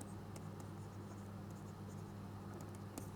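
Chalk or marker writing a math theorem on a lecture board: faint, scattered scratching taps over a steady room hum, with no talking.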